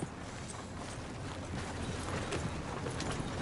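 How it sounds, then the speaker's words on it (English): Horse hooves clip-clopping steadily in the video game Red Dead Redemption 2, a close, even rhythm of hoof falls over a dense background wash, with no talking. "Ride a horse."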